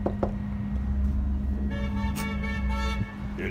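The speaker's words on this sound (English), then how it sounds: "They beeping some car." A car horn honks in steady outdoor traffic, sounding as a sustained tonal blast of more than a second over a constant low engine and road rumble, with a short extra beep near the end.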